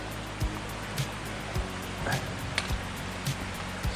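A freshwater creek runs over rocks along a hiking trail, a faint steady rushing flow with a few soft thumps of footsteps or gear passing by.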